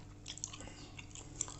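Someone bites into homemade olive oil bread, crisp outside and moist inside, producing faint close crunchy chewing with a few sharper bites, quiet and without talking.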